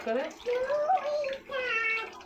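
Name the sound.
washing bitter gourd under running water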